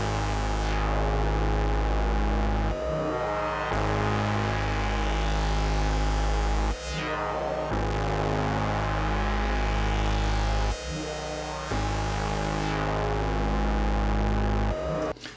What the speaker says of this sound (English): So all together, this is what this synth element sounds like